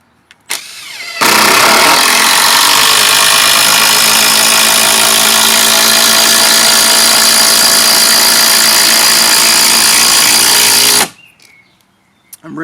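Makita DTD171 impact driver sinking a five-inch screw, starting slowly, then kicking into a loud, sustained high-speed hammering rattle for about ten seconds before cutting off, close up with no talk.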